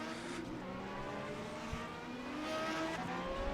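An Indy race car engine in a racing video game set at Long Beach gives a steady, fairly faint droning whine that holds its pitch throughout, with no voices.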